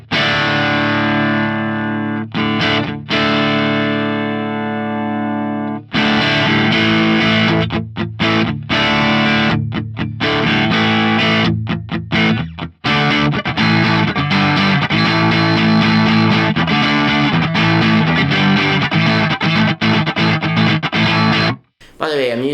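An electric guitar, a G&L Legacy Special Strat, played through a Xotic AC Booster overdrive model on an Axe-Fx III, sustained distorted chords and riffs with short pauses, loud and close.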